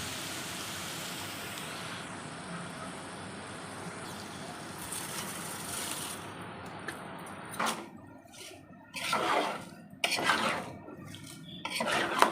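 Rice is tipped into a cooking pot of vegetable biryani, starting as a low kitchen hum and then breaking into several bursts of grainy pouring and clattering against the pot, loud and close.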